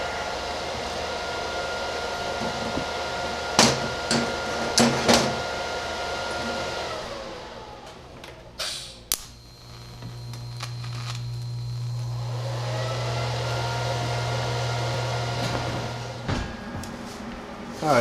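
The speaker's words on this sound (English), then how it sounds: "now we're ready for full welding" Tube chassis lower core support being welded, giving a steady crackling hiss broken by sharp clicks and short pauses, with a low humming stretch midway; no talking.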